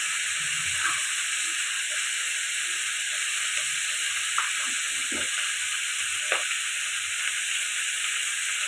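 Food fries in a pan with salt and turmeric, cooking until reddish. A steady, bright sizzling hiss holds throughout, with a few faint clinks and light stirring sounds beneath it. No one speaks.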